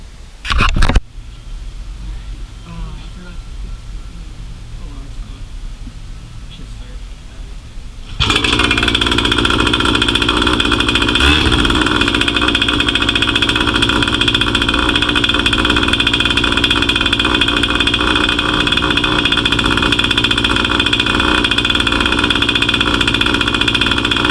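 A cheap used outboard boat motor, freshly put back together, runs on water supply; after a brief startup and quiet stretch it settles into a loud, steady, close idle that holds unbroken to the end.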